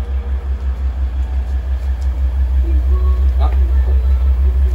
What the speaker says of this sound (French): si j'allume la voiture, donc là c'est valve fermée